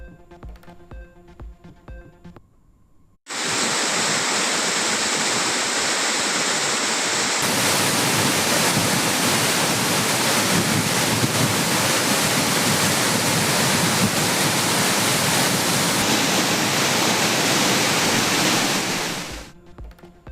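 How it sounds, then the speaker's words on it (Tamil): Courtallam main waterfall in heavy flood thunders as a loud, dense, unbroken roar of crashing water that begins abruptly after a few seconds of other sound and holds steady before cutting off. "மெயின் அருவியில் வெள்ளம் பெருக்கெடுத்து ஓடுவதால் சுற்றுலா பயணிகள் குளிக்க தடை"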